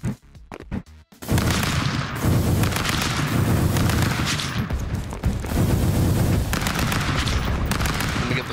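Dense, continuous gunfire from the video game Stick Fight, loud rapid shots and bursts running for several seconds after a few sharp cracks at the start, with no voices.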